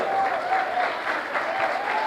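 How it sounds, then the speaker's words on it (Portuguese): A church congregation claps together during a Portuguese-language worship service, a steady wash of applause mixed with faint voices and a thin sustained tone running through it. "Aleluia, aplauda o Senhor."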